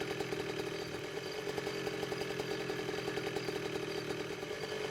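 A motorcycle engine running at a steady idle, a continuous close buzzing drone with a fast, regular pulse and no speech over it.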